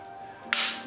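A Glock 19 pistol trigger breaks during dry fire, one sharp, close click that cuts through a quiet room, with a brief ringing tail.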